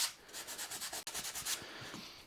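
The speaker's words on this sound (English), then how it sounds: "just use a couple of very fine sanding pads" Fine sanding pads rub back and forth over an oak guitar fretboard on a scratch-built Tele, a steady series of soft rhythmic scratchy strokes, close and fairly quiet, with a brief pause midway and no talk.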